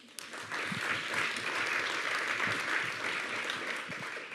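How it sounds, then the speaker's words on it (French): Seated attendees at a panel debate on cryptocurrency regulation applaud the panelists, a dense, even wash of clapping after a quick swell at the start that fades slightly toward the end. "Il n'est pas interdit de les applaudir."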